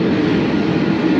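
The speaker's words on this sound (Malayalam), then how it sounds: "ഒരു ട്രെയിൻ ഇതാ പോകുന്നു." A Wellington to Auckland passenger train rumbles past in New Zealand, a steady, fairly loud broadband roar sustained through the whole short moment with no voices.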